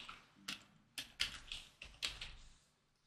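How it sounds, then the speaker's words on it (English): Keys tapped on a computer keyboard while entering a field name in a SharePoint list form, a handful of distinct clicks in an uneven rhythm, close and fairly quiet with no talking. "So we'll type in city."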